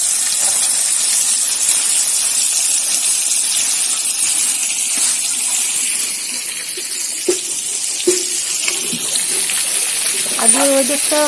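Running tap water pours in a continuous hiss, with faint splashes and a few clinks toward the end as chopped cabbage is rinsed under the stream.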